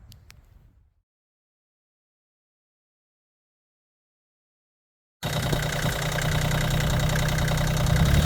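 After a short thud and several seconds of silence, a tractor engine starts up and settles into a steady, loud idle with a rough, knocking rumble that continues to the end.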